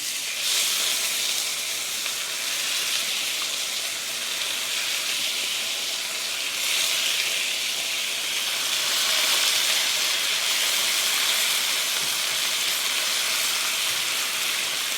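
Thin-sliced beef searing in avocado oil in a hot wok gives a steady, loud, broadband sizzle that holds without a break from start to finish, with no voices.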